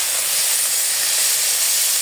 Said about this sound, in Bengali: কাঁচামরিচ দিয়ে দিলাম,